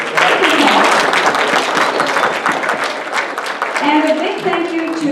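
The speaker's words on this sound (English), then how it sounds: "I'd like to give him a round of applause" Loud, sustained audience applause for the MC at a Liberal party dinner, continuous dense clapping with some voices and cheers mixed in near the end.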